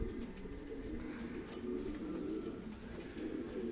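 Pigeons coo softly and repeatedly at close range, their low rolling calls overlapping steadily against a quiet outdoor background.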